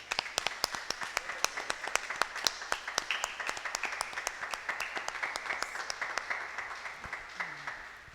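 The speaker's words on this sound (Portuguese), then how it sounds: "Vamos dar uma salva de palmas para o Senhor nessa noite." A church congregation applauding during an evening service: dense, sustained clapping from many hands, steady and fairly loud, with crisp individual claps standing out through the crowd.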